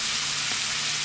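Soy sauce hitting a hot pan of sautéed vegetables with bacon, giving a brief, loud, broadband sizzle that stays steady and fills the moment alone.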